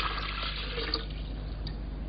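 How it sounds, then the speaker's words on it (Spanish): Water poured into a glass bottle: a steady hissing, gurgling fill at moderate volume with a low hum beneath, continuous and unbroken throughout. "Cogió una botella de cristal y la llenó de agua."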